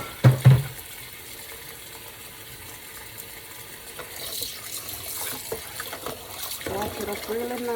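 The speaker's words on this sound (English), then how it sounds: "I'm going to be putting some more vinegar in there." Vinegar poured over a pork roast being cleaned for tamales, a soft liquid splash and trickle that swells in the second half, with brief handling knocks early on and speech nearby.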